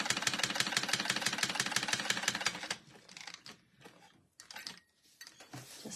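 A sewing machine runs a fast, steady stitching rhythm for almost three seconds while reinforcing a seam on a crossbody bag. It stops abruptly, leaving quieter handling noises and brief shuffles as the bag is turned.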